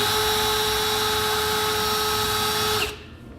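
A power drill whines loudly at a steady high pitch, grinding into a metal fifth wheel hitch rail on a Ram truck, then cuts off abruptly near the end.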